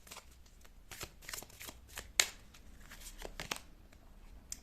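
Tarot cards are shuffled by hand at close range in a quiet room, giving a run of quick, crisp riffling flutters and soft slaps in irregular bursts, with no talking.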